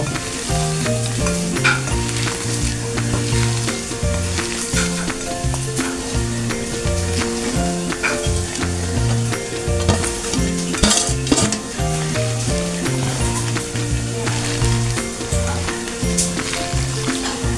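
Sliced potatoes are worked by hand into onion and chili for spicy potato pakoras, a steady, continuous squishing and stirring that runs without pause under a tonal background hum, with no voices.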